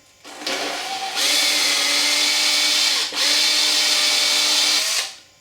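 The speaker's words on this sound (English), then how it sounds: "Get your drill bit in there and just bore him through." A power drill whirs loudly and steadily, with a short dip partway through before spinning back up, then winding down at the end.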